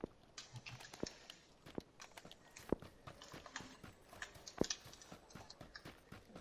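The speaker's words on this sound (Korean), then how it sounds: "내 오른쪽 발소리 들리는데?" Footsteps in PUBG on PS4: soft, quiet, irregular steps with sharp taps scattered through the stretch, somewhat distant, and no talk over them.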